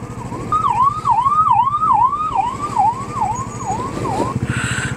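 An ambulance siren wails in a long rising-and-falling pattern, loud and close, over the rumble of engines in a traffic jam on a mountain road between Patnitop and Srinagar, heard from a Royal Enfield Classic 350 motorcycle.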